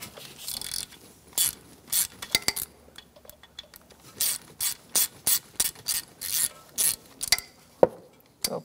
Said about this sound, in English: now we're going to take out these two bolts using an 8 millimeter socket and an extension.